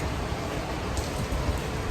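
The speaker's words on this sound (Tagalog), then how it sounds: "malakas yung ulan Sana tumigil agad yung ulan" Heavy rain pours steadily during a flood in Dubai, a dense continuous hiss of drops hitting surfaces, loud and unbroken with no voices.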